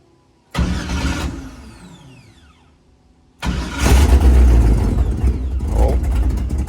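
A 1985 Chevrolet K10 pickup with an LS engine swap cranks and catches, settles briefly, then fires again and runs loud and close with a rough, uneven idle that wavers on low fuel pressure.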